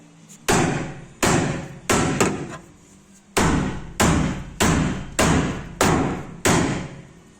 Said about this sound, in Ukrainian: Молоточок трошки побільше.